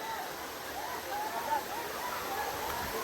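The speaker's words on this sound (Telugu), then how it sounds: "ఫుల్ వాటర్ ఫాల్ సౌండ్ అయితే వస్తుంది దీంట్లో" Steady, soft rush of a hidden waterfall outdoors, a continuous broadband wash of falling water with slight swells and no clear voices.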